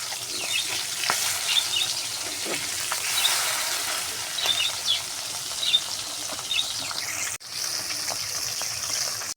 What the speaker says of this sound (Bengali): আমার 2 পিসটাই মাছ ভাজা হয়ে গেছে।